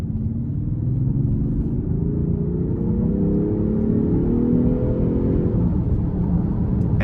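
2023 Range Rover Sport with twin-charged inline-six, driven in dynamic mode: a deep engine rumble rises steadily in pitch under acceleration, heard from the cabin over road noise, then drops off at the end.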